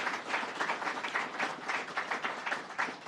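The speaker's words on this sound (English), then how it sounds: "Let's have a round of applause for that from the governor." Audience applause at a governor's education bill signing in Albany, a short burst of continuous, fairly close clapping from a roomful of people with a slightly pulsing rhythm.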